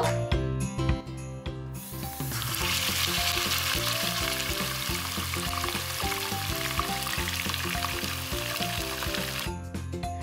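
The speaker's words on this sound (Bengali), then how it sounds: "মুরগিটা আমি সুন্দর করে ভেজে নিব, একদম উল্টিয়ে পাল্টিয়ে।" Chicken pieces frying in a little oil in a pan, with a steady, dense sizzle that rises after a quieter opening and holds loud and close, with clinks and scrapes from the chicken being turned.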